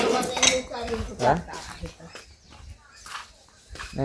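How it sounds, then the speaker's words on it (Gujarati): Steel utensils and dishes being washed at home, with scattered clinks and clatters of pots and cutlery against one another, close by, mixed with people talking. "આ બાજુ કપડાં ધોવાય છે, કપડાં નહીં વાસણ ધોવાય"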